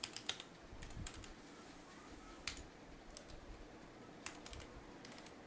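Computer keyboard typing in short irregular bursts of light clicks, close and fairly quiet, with brief pauses between the bursts and no talking.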